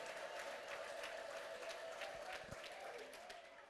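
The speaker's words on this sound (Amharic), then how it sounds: "እልልታና ጭብጨባ ለጌታ ክብር አምጡ" A church congregation applauding and cheering, a dense, distant wash of clapping and crowd noise held steady throughout at low level.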